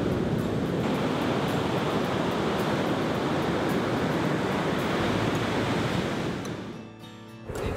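Surf rolls onto the beach at Fraser Island in a steady, loud wash of breaking waves, close and continuous, easing slightly near the end.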